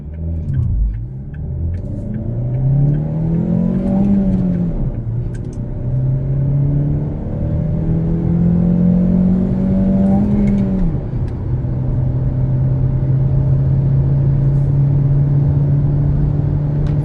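A Chery Tiggo 4 Pro compact SUV with a front-wheel-drive five-speed manual launches hard, its engine droning loud and close as it climbs through revs, drops with each gearshift and pulls again in a sustained run.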